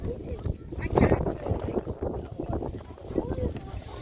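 A horse pulling a tram clops unevenly on a hard surface on the causeway to Granite Island, Victor Harbor, under wind buffeting the microphone, with a voice speaking over it.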